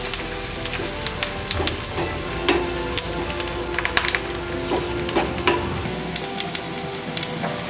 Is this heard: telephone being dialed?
no